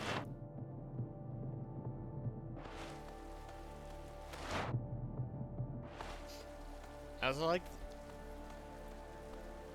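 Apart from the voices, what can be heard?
rain sound in a video game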